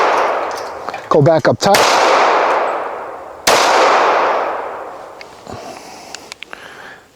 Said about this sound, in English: Let me go ahead and empty this mag out